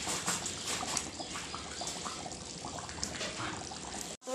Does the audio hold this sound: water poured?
yes